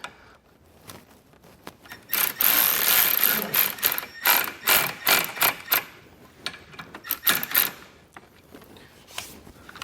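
Self-tapping screws are driven in to mount a tow bar accessory kit on a 2018 Mini, heard as bursts of ratcheting, whirring clicks, close and irregular.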